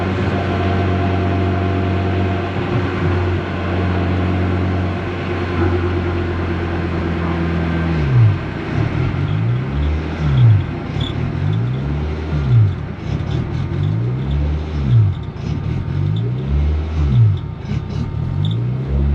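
A 600hp all-wheel-drive Honda Civic engine drones steadily and loudly, then revs in a series of rising and falling sweeps, heard close from inside the car with no talk.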